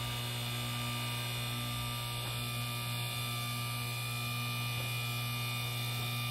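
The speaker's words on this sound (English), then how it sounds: "with the controller, I'm going to cautiously get that going, and you can hear it spinning up." Electric motor of a portable 8,000 lb car and truck lift running, a steady low drone and hum with a faint buzz holding at a constant level throughout, with no talking.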